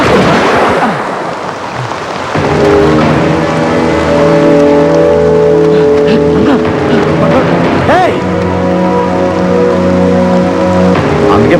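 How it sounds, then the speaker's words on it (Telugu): Heavy rain pouring down in a steady dense hiss, joined after a couple of seconds by a loud droning engine-like tone, with people talking over it. "వర్షం బాగా కురుస్తున్నాయి"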